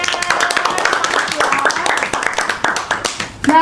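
Applause from a class of students, a dense burst of many hands clapping together that carries on steadily with voices mixed in beneath it.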